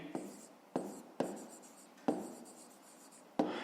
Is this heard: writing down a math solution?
yes